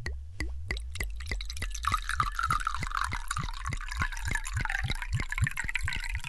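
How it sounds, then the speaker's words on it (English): Wine poured steadily into a vessel makes a rhythmic, evenly spaced glugging and dripping that continues throughout, close and moderately quiet. "This wine that I pour is my blood."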